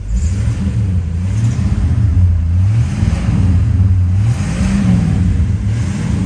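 A 1986 Pontiac Grand Prix Aero coupe engine running steadily at close range, a continuous low rumble with rising and falling revs throughout and no talking.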